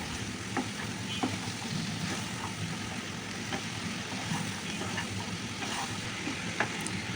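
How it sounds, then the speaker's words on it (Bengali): Chopped okra stir-fried in a pan, a faint, even sizzle with light intermittent scraping as the pieces are turned, no voices. "এবার আমি আগে থেকে কেটে রাখা ঢ্যাঁড়সগুলো দিয়ে এখানে আমি ভালো করে উল্টায়"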